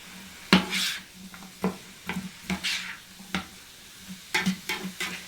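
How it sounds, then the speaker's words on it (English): Onions and sriracha in a pan are stirred with a utensil, which scrapes and clinks against the pan in irregular bursts over a soft sizzle. No one speaks. "So we'll go ahead and stir this up a bit."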